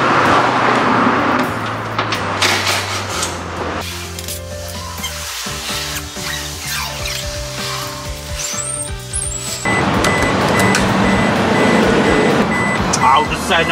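A vehicle's reversing beeper repeats steadily alongside rumbling engine noise in a workshop where an old used car is being restored, with people talking in the background.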